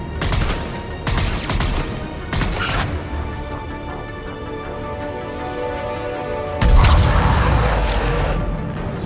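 Gunfire in the Mass Effect 3 video game: several loud bursts of rapid shots in the opening seconds, a quieter stretch of humming ambience, then a heavy, booming volley near the end.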